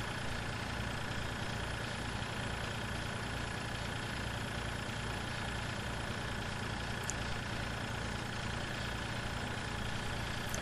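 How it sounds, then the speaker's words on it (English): A small tractor's engine runs in the Farming Simulator 2013 video game, a steady low droning hum that holds an even idle-like tone throughout. "not a bad little tractor for pulling wagons and doing this kind of stuff"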